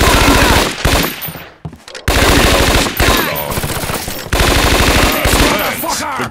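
Rapid bursts of automatic gunfire from the Scarface: The World is Yours video game, loud and continuous in long strafing runs with brief gaps, mixed with game effects.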